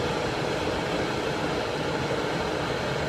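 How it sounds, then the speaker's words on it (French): Cooling fan of a parked BYD Seal running during charging, a steady broadband whoosh at fairly loud level, continuous and unchanging with no other sounds. "Alors le bruit de ventilation, alors que la voiture elle est arrêtée au moins depuis 5 minutes à peu près."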